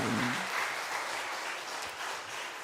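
A church congregation applauding during a Sunday service, a steady wash of many hands clapping, moderately distant and sustained for a few seconds.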